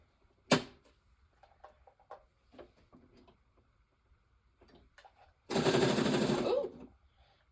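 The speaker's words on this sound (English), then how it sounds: "I'm just going to sew around the edge to kind of make sure I'm good and sealed" A sewing machine runs in one continuous burst of just over a second, stitching around the edge of a quilt block, after a sharp click and a few faint handling sounds in a quiet room.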